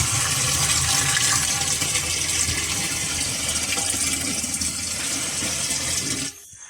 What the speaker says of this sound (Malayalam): കുറച്ചുകൂടി വെള്ളം നിറയ്ക്കാം നമുക്കിനകത്ത്.